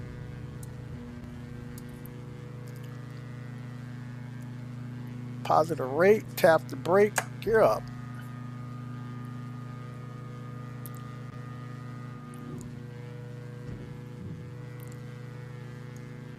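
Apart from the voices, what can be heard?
Diamond DA42 aircraft engine at takeoff in X-Plane 12 video game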